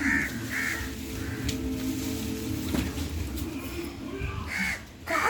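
Several crows cawing loudly in repeated harsh calls, close by, with a few bursts near the start and again near the end over a busy outdoor background.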